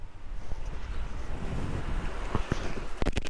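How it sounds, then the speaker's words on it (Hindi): Cool wind rushes past the microphone on a ride, a steady broadband roar with gusty fluctuations and a few sharp clicks near the end, with no voices. "आहा, ठंडी ठंडी हवा चल रही है"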